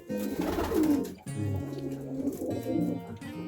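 Pigeons coo inside a pigeon loft, a close, steady run of low throaty cooing calls with some overlapping birds and faint background rustle.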